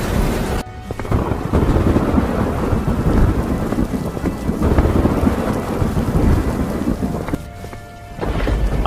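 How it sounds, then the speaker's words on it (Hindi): Heavy rain pours down with rolling thunder, a loud dense roar that swells and dips, with brief drops and a rumble returning toward the end, without any voices. "देखो बारिश और तेज हो रही है"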